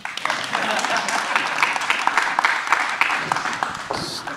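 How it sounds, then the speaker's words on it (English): A crowd applauds continuously, dense clapping from many hands throughout, fairly loud, with a few voices mixed in. "Give me a round of applause."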